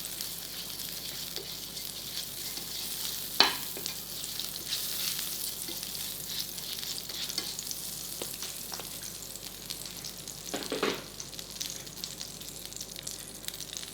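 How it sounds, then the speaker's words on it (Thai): A gentle, continuous sizzle of a little butter frying in a pan before bread is toasted, with a couple of brief clinks and scrapes partway through. "ตั้งกระทะใส่เนยครับ เล็กน้อยพอนะ"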